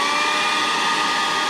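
Hair dryer blowing over a wet watercolor painting, a steady loud whirring rush that holds constant and close throughout with no talk.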